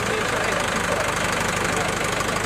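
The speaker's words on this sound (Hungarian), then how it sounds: "A vállalkozók, gépforgalmazók be is gyújtották az erőgépeket, a hozzáértők a traktor zugását hallgatták." Tractor engines idle at an agricultural fair, a steady loud rumbling drone with knocking pulses, heard under a voice talking over it.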